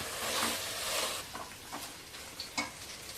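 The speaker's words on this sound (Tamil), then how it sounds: "கறி போட்டு கொஞ்சம் நேரம் வதக்கியாச்சுங்க" Meat sizzles and fries in oil with garam masala and chili powder, with a loud steady sizzle and intermittent scraping stirs against the pan.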